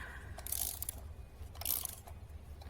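A wrench turns the nut on the front wheel fork of a Joovy Zoom360 Ultralight stroller, producing quiet, close ratcheting clicks in two short bursts with faint handling noise between them.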